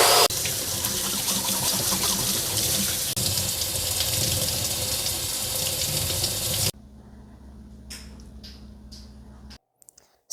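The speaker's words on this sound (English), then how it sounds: "just put some clean water in it and just blow the water through the sprayer" Clean water is forced through a Ryobi 18V cordless HVLP paint sprayer, a loud steady hiss and spray lasting several seconds, then cutting to a quieter hum with brief faint bursts near the end.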